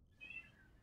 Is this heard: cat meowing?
yes